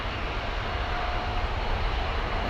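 Airliner jet engine roar at London Heathrow Airport, a dense, steady broadband rush that stays loud and unbroken throughout, with no speech.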